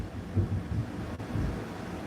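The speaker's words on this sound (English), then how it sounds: "That thunder's it's gonna be a big boomer out there in a minute" Low thunder rumbles outside a house during a storm, a deep continuous drone with slight swells, moderately loud and steady throughout with no talking.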